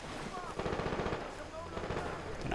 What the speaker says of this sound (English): They're not shooting at me, luckily. What are they shooting at?